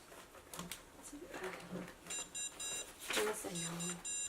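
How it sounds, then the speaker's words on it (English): Barcode Battler handheld game emitting several short electronic beeps, some in rapid pairs, as a printed custom card is swiped through its scanner, with quiet talk and handling noise around them. "It'll beep at you if you do it wrong."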